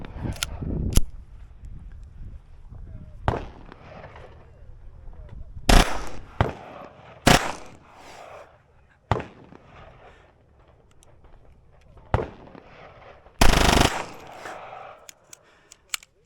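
A suppressed and unsuppressed Taurus TX22 compact pistol fitted with an FRT fires short rapid full-auto bursts, sharp loud cracks in quick clusters separated by pauses, close and outdoors, with no talk over the shots.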